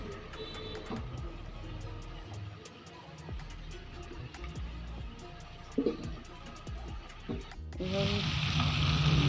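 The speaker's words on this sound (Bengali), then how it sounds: "এভাবে সবগুলো গোস্তের সাথে দিয়ে এগুলোকে আমি ভেজে দিচ্ছি।" Chicken meat frying in a pan with spices, a steady, close sizzle with scattered clicks and stirring, getting louder and hissier toward the end.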